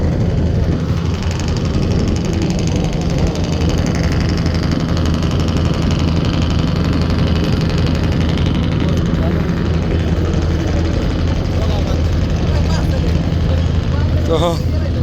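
The Sundarban 14 passenger launch's engine drones loudly and steadily as the vessel leaves the ghat, a constant low rumble with deep tonal throb throughout, while people talk over it.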